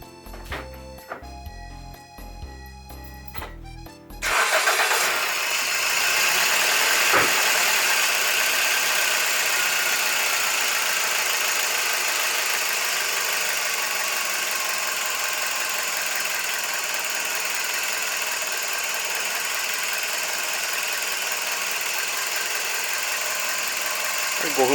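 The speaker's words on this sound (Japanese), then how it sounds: "じゃあエンジンかけてみましょう。" A car engine treated with Daito Junkatsu Liqui Moly Power Max LM-1101 molybdenum oil additive cranks and fires after a few seconds of other sound, then settles into a steady, close idle hum.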